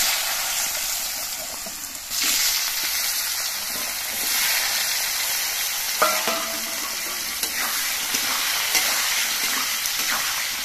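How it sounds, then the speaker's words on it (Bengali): Potatoes frying in hot oil with bay leaf, dried chilli and whole cumin give a steady, close sizzle with stirring scrapes and bursts of spattering throughout. "এবার আস্তে আস্তে জাল দিয়ে আলুগুলোকে ভেজে নিতে হবে।"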